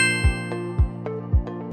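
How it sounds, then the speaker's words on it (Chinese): A buzzer tester checking a telephone line during a new-house inspection gives three short, evenly spaced electronic beeps, close and clear against a quiet background. "所以会使用蜂鸣器来确保电话线能正常的运作"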